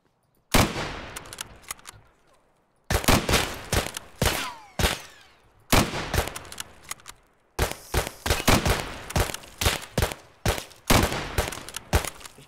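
Bursts of rapid gunfire in the video game Escape From Tarkov crackle in several volleys separated by short pauses, loud and close, with no talking.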